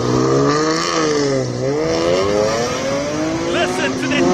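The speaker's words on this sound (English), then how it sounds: "Listen to that normally aspirated six-cylinder up the hill" BMW E36 M3 with a naturally aspirated six-cylinder engine climbing a hill at a classic car hillclimb in Cape Town, a loud near engine howl rising through revs, dipping at a gear change, then climbing again.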